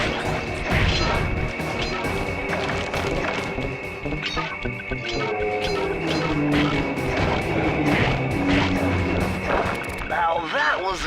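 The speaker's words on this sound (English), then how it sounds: "When you smashed that gravestone, the ghost stopped coming." A gravestone smashed in the game Sly Cooper and the Thievius Raccoonus, with loud crashing, breaking impacts repeated through the clip over dense, continuous game music.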